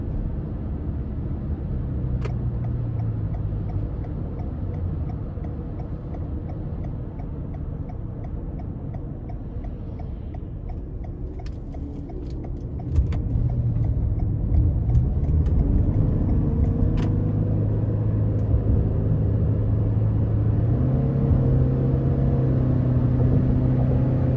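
A 2021 Toyota Sienna Hybrid in sport mode accelerates onto an interstate: steady cabin road rumble and a faint ticking indicator, then the engine note rises sharply and holds, climbing in pitch as the minivan merges.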